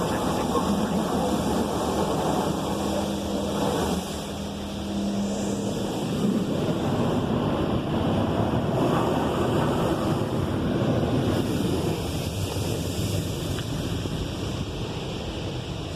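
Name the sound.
PDQ Laserwash 360 Plus car wash high pressure rinse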